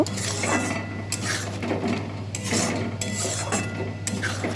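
Paneer and spinach are stirred and fried in a pan for palak paneer, with a repeated scraping and clinking of a utensil against the metal pan over a low steady hum, close and unhurried, no talking.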